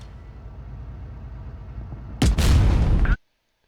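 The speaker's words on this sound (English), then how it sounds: "I ammo rack him." A tank's ammo rack detonates in World of Tanks Blitz: a loud, close burst of explosion lasting under a second after a low engine rumble, then cutting off abruptly to silence.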